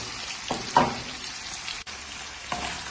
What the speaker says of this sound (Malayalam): സോസേജ് ഒന്ന് ചെറുതായി ഫ്രൈ ചെയ്തെടുക്കുക